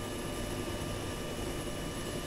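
A helicopter engine in the military video game ArmA 3, on a winter map, as a constant, loud rotor and turbine drone that fills the whole clip without a break.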